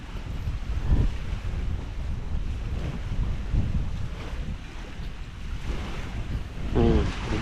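Steady wind gusting by the sea at a Palawan shore, with surf washing in and broadband rushing noise that swells in gusts near the start and end, buffeting the microphone, with no voices.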